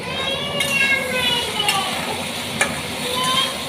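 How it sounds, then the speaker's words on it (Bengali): Pumpkin curry with salt being stirred in a frying pan, a continuous close sizzle with scraping strokes, while people talk and children's voices sound in the background. "এই দেখো নুন দিয়ে দিচ্ছে, একটু নাড়াচাড়া করছি।"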